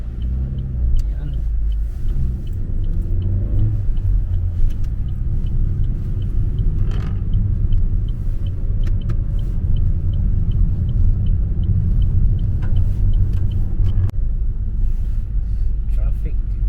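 Steady engine rumble and road noise from inside a right-hand-drive car moving through UK traffic toward a roundabout, continuous and close, with people talking over it.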